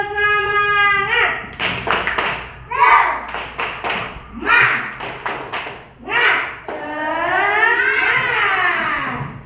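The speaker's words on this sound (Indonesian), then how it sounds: "Ayo kita tepuk semangat dulu. Tepuk semangat." A class of children chants together and claps in sharp rhythmic bursts as a teacher leads a spirit clap, the voices and hand claps alternating in a lively, close pattern.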